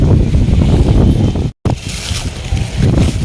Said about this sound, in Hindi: फिर अच्छी हवा चल रही है।